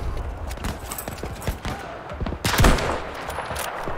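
Gunfire in the video game Battlefield V, a rapid series of sharp shots and bursts with one louder, heavier report near the middle, over a busy battlefield background.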